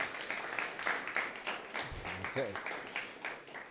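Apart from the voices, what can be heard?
audience applause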